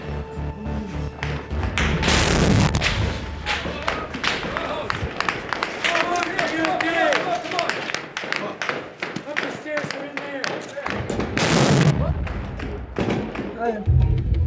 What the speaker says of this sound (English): there's bullets pinging on the walls around us. Extremely close, and they're firing very accurately at us